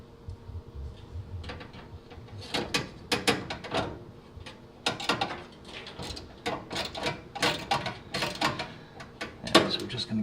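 Screws being started by hand into the sheet metal of a GE dryer during a natural gas to propane conversion, heard as a series of small scraping metallic clicks and ratcheting bursts, close and moderately loud with brief pauses between.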